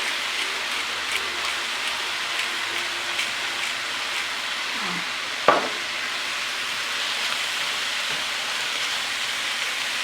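Chicken spring roll filling with black pepper frying steadily in a pan, a continuous close sizzle with one brief sharp clink partway through.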